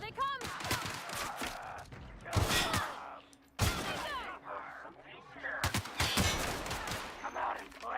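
Rapid bursts of gunfire from The Outer Worlds video game, several loud volleys and single shots mixed with game effects, with someone talking and shouting over the shooting.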